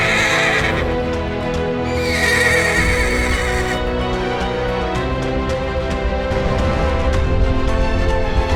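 A horse gives loud, close neighs and whinnies with a hint of hoof clip-clop, and the sound carries on for several seconds with no voices.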